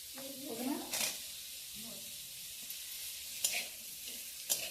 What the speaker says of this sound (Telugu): ఈ దోసకాయలు ఫ్రై చేయాలి